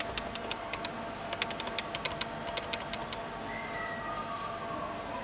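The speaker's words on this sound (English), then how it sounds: "You can do this by simply pressing each key to which letter you would like." Keys are pressed on a Polycom VVX 410 desk phone keypad, giving a run of quick, light clicks in irregular bursts over faint background hum.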